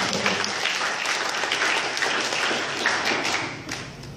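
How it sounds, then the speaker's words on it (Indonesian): Audience applause at an interview event about Transcendental Meditation, a steady wash of many hands clapping that holds for several seconds before easing slightly toward the end. "Berikan tepuk tangan buat."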